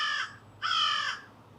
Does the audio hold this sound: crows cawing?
yes